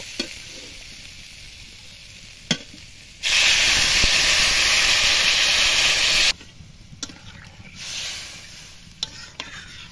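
Water poured into a pan of fried potato and egg masala sets off a loud, steady burst of hissing steam and sizzling lasting about three seconds, then fades back to a quieter simmer with occasional stirring clinks.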